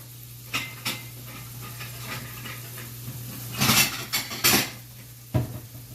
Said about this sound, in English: I'm grabbing a plate